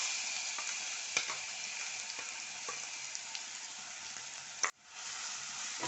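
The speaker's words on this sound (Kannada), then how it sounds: "ಸ್ವಲ್ಪ ಫ್ರೈ ಮಾಡ್ಕೊಳ್ಳೋಣ." Ground green chilli masala fries in hot ghee with a bright, even sizzle, close and steady, broken by a few light stirring clicks and one sharp knock near the end.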